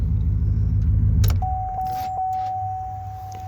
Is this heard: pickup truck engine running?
yes